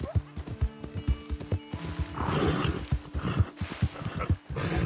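Horse hooves clip-clopping in a steady rhythm with whinnies from a mount in Red Dead Redemption 2, close and loud, with scattered game sounds mixed in.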